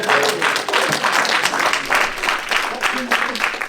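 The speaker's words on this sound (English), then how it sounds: "give yourself a round of applause" A panel audience at a public transportation caucus gives a short burst of applause, irregular clapping with some voices mixed in, heard up close.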